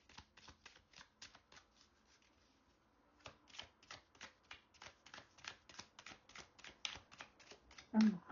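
Playing cards shuffled by hand during a tarot-style reading, a close, quiet series of rapid riffling bursts in an uneven rhythm with brief pauses, ending in a louder bump.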